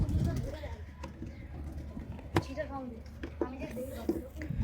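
Pigeons in a loft: soft, low cooing drifts in and out beneath someone speaking close by, with a few light clicks and shuffles around the birds.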